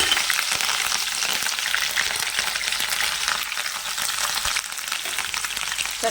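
Dried red chilies and green chilies frying in hot oil, a loud, steady crackling sizzle that runs continuously up close without any voices.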